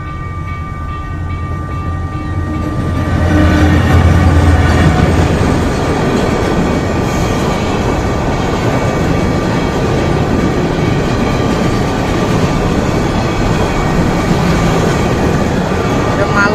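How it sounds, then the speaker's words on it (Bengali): A freight train passes on a railway line near Ratanpur Bazar in Cumilla, its loud, continuous rumble and rolling wagon clatter swelling after a few seconds and holding steady up close. "মালবাহী ট্রেন, মালবাহী ট্রেন।"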